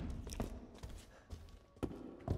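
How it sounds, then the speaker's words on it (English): Lady Dimitrescu's heavy footsteps in the video game Resident Evil Village: several deep, spaced thuds land at an uneven pace, fairly faint, with quieter tapping between them. "your footsteps are heavy"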